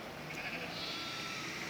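A faint, distant chorus of sheep and goats bleating together, blurred into a continuous wavering sound under a soft outdoor background.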